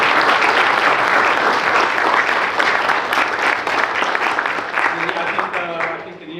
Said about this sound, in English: Let's go ahead and give Jake a round of applause